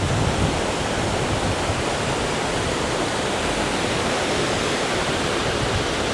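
Steady, loud roar of a tall waterfall in Adelboden, Switzerland, broadband rushing water heard up close without a break.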